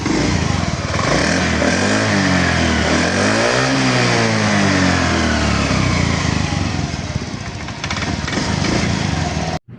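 A Honda Zoomer X scooter engine, running again after its faulty fuel pump was replaced, idles loudly and steadily up close, with one smooth rev rising and falling midway before it cuts off at the end.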